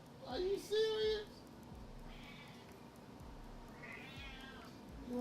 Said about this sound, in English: The cat is loud.